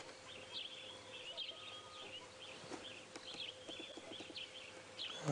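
Repeated bird calls ring out at mid distance over a steady low engine hum during a sunrise safari drive, the phrases recurring every second or so with faint rustling and occasional knocks beneath.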